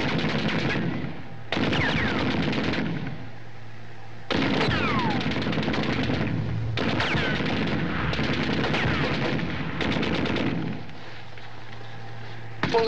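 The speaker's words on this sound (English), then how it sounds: "Machine guns!" Machine gun fire rattles through a battle scene in an old comedy film, coming as several long rapid bursts separated by short pauses, loud and close.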